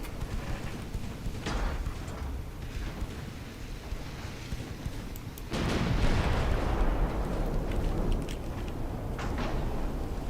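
Heavy naval artillery booms from battleship guns in Ultimate Admiral Dreadnoughts, a continuous rumbling barrage with a louder salvo crashing in midway and rolling on.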